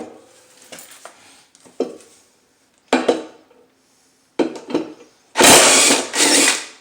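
A power tool spins off the 24 mm blade nut on a Craftsman T110 lawn mower spindle, loud short bursts separated by pauses, ending in a longer, heavier run.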